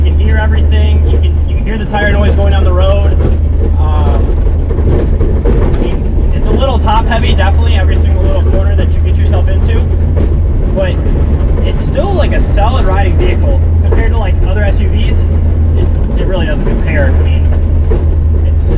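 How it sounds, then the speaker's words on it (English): A 1999 Jeep Wrangler rolls down the road with a loud, constant low engine and road drone filling the cabin, while a person talks over it throughout. "when you start driving one of these old Jeeps down the road"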